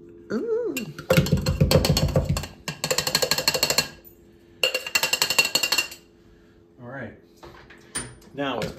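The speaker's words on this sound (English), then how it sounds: "Let's throw a bunch of raspberries in the shaker. And we're going to muddle those." Raspberries muddled in a cocktail shaker for a Blackout-inspired drink: bursts of rhythmic, fairly loud crushing and clinking knocks arrive in two long runs, with short pauses between them and brief speech nearby.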